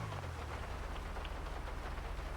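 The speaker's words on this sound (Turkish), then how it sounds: "Yağmur da başladı ıslandık ya." Steady rain falls in a video game city, a dense even hiss with a low rumble underneath, continuous and fairly quiet throughout with no talking.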